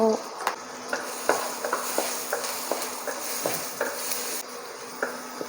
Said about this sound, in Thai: พอน้ำมันร้อนแล้วนะเจ้าเม่กิฟก็จะใส่กระเทียมลงไปห้ากีบเจ้า